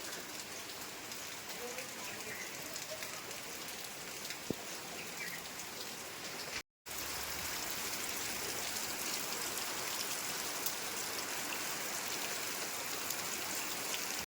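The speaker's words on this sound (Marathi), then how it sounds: "बारीक पाऊस बारीक बारीक" Light drizzle falls over a Konkan village yard, a faint, even patter and hiss that runs steadily through the whole stretch, broken once by a brief moment of silence.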